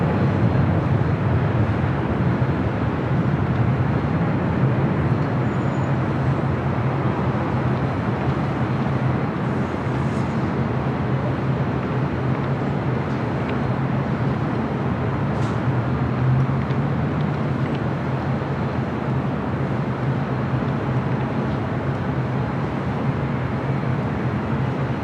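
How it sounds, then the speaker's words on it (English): An Asiana Airbus A380 rolls down runway 25 left at LAX on its takeoff run, making a steady, heavy roar of jet engines that holds at an even loudness for the whole stretch, with no voices heard. "the Asiana A380 Super heading back to Seoul, now rolling down 25 left"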